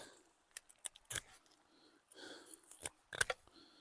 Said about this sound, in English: cut the odd bit off there, clean the blade